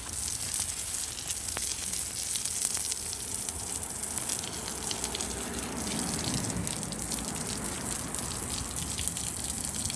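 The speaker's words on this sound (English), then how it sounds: "Watering everything down," A garden hose sprays water over newly laid stepping stones, a steady broad rushing hiss of water splashing on stone that holds fairly constant throughout.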